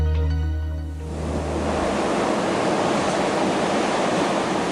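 A hurricane storm surge driving waves against the coast, heard as a dense, continuous roaring wash of surf that rises out of a fading tonal hum and then holds steady and loud to the end.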